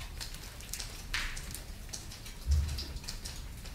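Soft rain patters steadily on a surface, a quiet continuous hiss with occasional louder drops and a low thump.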